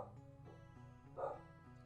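A dog named Jalaya barks, a short muffled yelp rising briefly above a low droning background and voices, heard once near the end.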